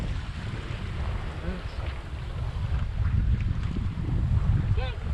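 A sailboat moves under sail in wind, with steady rushing wind noise buffeting the microphone and a low wash of water against the hull, and a faint voice briefly in the background.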